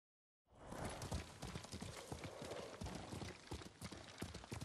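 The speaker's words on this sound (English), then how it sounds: "What a good horse." Rapid, steady hoofbeats of a galloping horse in the video game Ghost of Tsushima clatter close by against a dense rushing background, continuing without pause.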